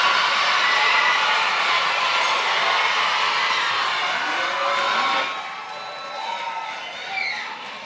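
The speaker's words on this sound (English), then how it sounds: "give themselves a round of applause for participating in this great venture" Audience at a school tourism youth congress cheering and whooping with a dense crowd roar, loud at first and then thinning out into scattered shouts.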